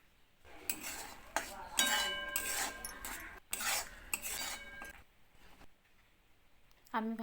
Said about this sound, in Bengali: আমি ভালোভাবে নাড়াচাড়া করে নেব।